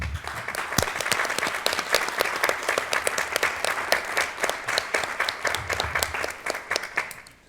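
An audience at a city council meeting claps steadily for several seconds, individual claps audible within the dense applause, which thins out and trails off at the end.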